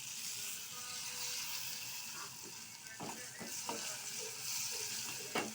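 Chili powder and curry leaves sizzling in a hot pan for a breadfruit curry, with a steady frying hiss and occasional scraping stirs of a spoon, quiet and close.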